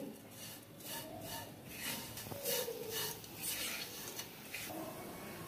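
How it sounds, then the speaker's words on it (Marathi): Vermicelli roasting in ghee in a pan over a low flame is stirred constantly, giving a soft, continuous dry scraping and rustling that stays fairly quiet and close throughout. "आपण हे सतत हलवतोय, नाहीतर शेवया लगेच करपू शकतात"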